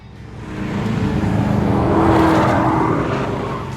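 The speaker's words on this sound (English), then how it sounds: "Stock car racing in the 60s was a fitting backdrop for Ralph Tyler's early broadcasting career" 1960s stock car racing: a race car roars past close and loud, engine pitch swelling then falling away as it passes, with no talk over it.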